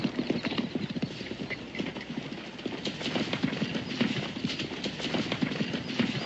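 Horses pulling a hitched wagon clip-clop steadily and continuously, hooves thudding in a brisk, overlapping rhythm at close range with a faint whinny amid the clatter.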